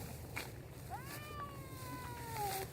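A cat found on a walking trail lets out a single drawn-out meow, fairly close and clear, rising then slowly falling in pitch over about two seconds against steady outdoor background noise.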